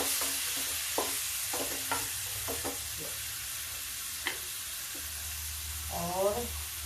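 Carrots and tomato dropping into a hot pan while a vegetable dish cooks, a steady broad sizzle with several soft stirring clatters, close and moderately loud, with a voice talking briefly near the end.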